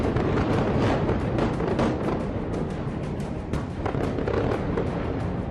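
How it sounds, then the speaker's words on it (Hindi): Bombing explosions strike the southern suburbs of Beirut, a dense barrage of booms and crackling blasts rolling continuously with no pauses, heavy and rumbling, with no voices over them. "इजराइल ने बेरूत के दक्षिणी कस्बे में जो बमबारी की है वो 18 साल बाद इतनी भीषण शक्ल अख्तियार कर रही है।"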